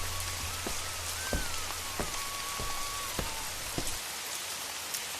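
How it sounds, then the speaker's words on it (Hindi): Steady rain patters on a hard surface, with scattered louder drops landing close by throughout. "पहली बारिश शुरू होती है।"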